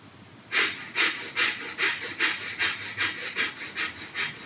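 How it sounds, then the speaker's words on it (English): Rapid, rhythmic breath-of-fire yoga breathing, about a dozen sharp forceful exhalations through the nose at an even quick pace, close and clear with no talking. "And we're going to do breath of fire."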